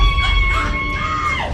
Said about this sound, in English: people literally screaming outside